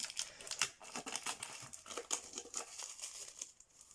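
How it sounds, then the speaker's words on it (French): A roll of thin paper being handled, crinkling and rustling up close in irregular bursts and soft tearing-like crackles, with no talk. "j'ai pris un rouleau comme ça. Alors il me semble que c'est du papier."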